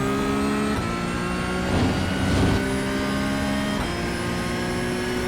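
A Porsche GT3 Cup engine at full throttle at Mugello in the racing game iRacing: a loud, steady, high-pitched engine drone with slight pitch shifts, continuous throughout with no talk.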